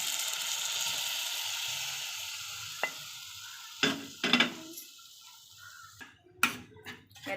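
Boiled colocasia leaves with asafoetida hiss in a pan, a fading sizzle followed by several close scraping stirs and clinks of a spoon against the pan.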